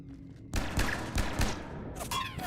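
Gunfire in the video game Mass Effect 3, a burst of loud impulsive shots and thuds starting abruptly after a quiet moment, with a brief voice and whooshing effects near the end.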